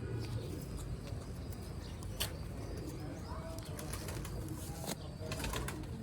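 Soft repeated cooing from Sialkoti black-mouthed pigeons on a rooftop, with a few sharp chirps and brief wing flutters over a low ambient hum.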